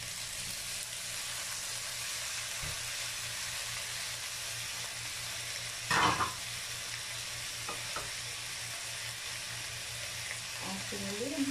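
Onions sautéing in a pan for pancit, a steady broadband sizzle throughout with a brief louder clatter around the middle and a few faint clinks near the end.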